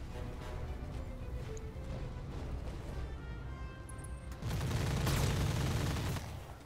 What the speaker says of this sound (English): Oh, he's shooting for the right target anyway.